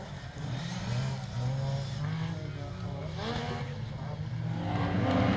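Rallycross racing on loose gravel at Pembrey with an MG Metro 6R4 leading and a Mini: engines roar and rev continuously, rising and falling as the cars accelerate, with commentary under the noise.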